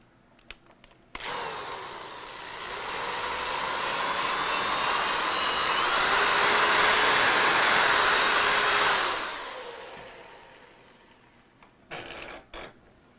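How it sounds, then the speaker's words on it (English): A power drill with a brush attachment, cleaning inside a golf club hosel, whirs steadily for about eight seconds, rising and holding a loud high-pitched spin before winding down. "we use kind of a brush attachment here for my power drill"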